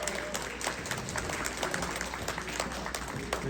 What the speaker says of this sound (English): Big round of applause to the person we are here to root for.